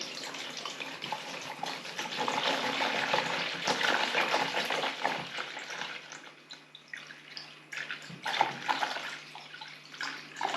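Water pours and splashes into a container in a continuous, fluctuating gush, close by, easing off briefly and surging again near the end.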